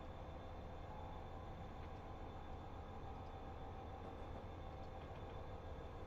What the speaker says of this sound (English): These freight trains on the pass can be tricky.